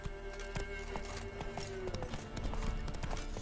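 The horse Roach gallops in The Witcher 3, a steady, fast clip-clop of hooves close by over a continuous game soundscape.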